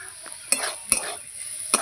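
Bamboo shoots frying in a pan are stirred, giving three sharp scraping clanks of a utensil against the pan over a soft, steady sizzle.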